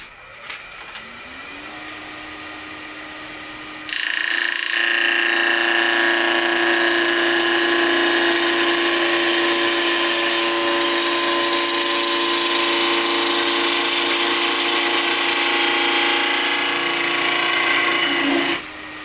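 Wood spinning on a lathe as a skew chisel makes an end-grain cut on a turned dreidel spinning top: a steady whirring motor tone with a sustained, close scraping hiss of the cut that starts after a few seconds and holds until near the end.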